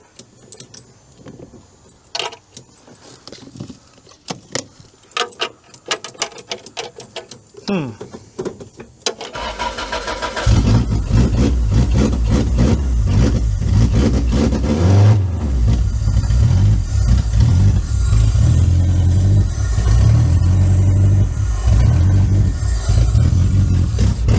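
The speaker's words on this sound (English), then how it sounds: "So it starts just like a Toyota." A Toyota Previa van starts after about ten seconds of keys jangling and clicking, then the engine catches and settles into a loud, steady close-up idle.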